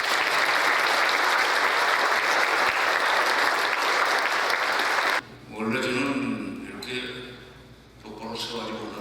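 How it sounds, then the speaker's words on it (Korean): Audience applause welcoming former Korean unification minister Jeong Se-hyun to the stage at a book talk in Atlanta, a loud, dense clapping crowd for about five seconds, then quieter talk. "우리 큰 박수로 환영하겠습니다."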